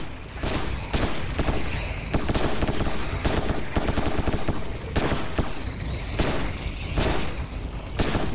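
Assault rifle fire in the VR shooter Serious Sam VR: The Last Hope, loud sustained rapid bursts of automatic shots with brief pauses between volleys.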